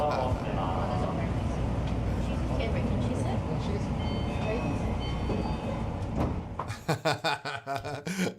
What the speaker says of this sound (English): Electric trains everywhere.